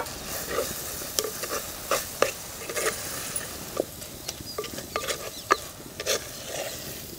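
Green chilies and curry leaves frying in a pan for country chicken rasam, a quiet continuous sizzle with scattered scraping and stirring taps of a spoon, heard close and alone.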